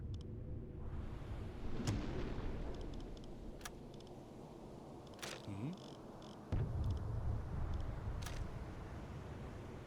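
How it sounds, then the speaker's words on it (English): A front torpedo tube fires aboard the Type IX A U-boat U-44 in the submarine game UBoat, over a steady deep engine rumble. Several sharp clicks and thumps punctuate the drone, and a heavier thud marks the launch. "I'm going to fire one more front torpedo."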